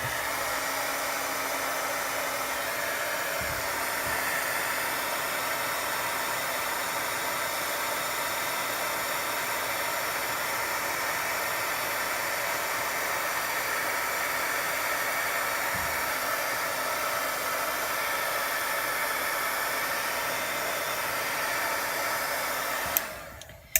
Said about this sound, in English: I'm going to hit it with the heat tool again.